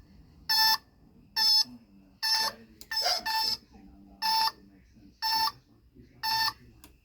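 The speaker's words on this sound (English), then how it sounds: "Like you could hear it beep." Steady electronic turn-signal beeping on a 1976 Kawasaki KZ400 motorcycle, repeating at an even pace, about eight short bright chirps, close by, with faint low sounds between beeps.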